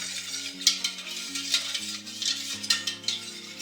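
A utensil stirs a strawberry cream mixture with condensed milk in a bowl, giving soft scraping and a few light clinks against the side, quiet and close, with background music playing underneath.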